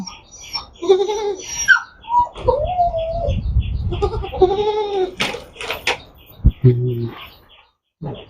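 Goats and young kids bleat at a village home, several wavering, nasal calls close by, overlapping and broken by short pauses, with one loud final cry.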